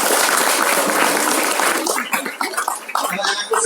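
An audience at a school gathering bursts into dense, loud applause that fades after about two seconds, and a voice then comes through over the dying claps.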